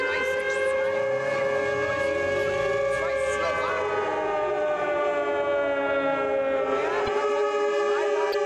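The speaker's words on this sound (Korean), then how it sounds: "결국 사이렌이 울리죠." An air raid siren in a WWII film wails continuously and loudly, its steady, layered tone holding throughout over a low rumbling background.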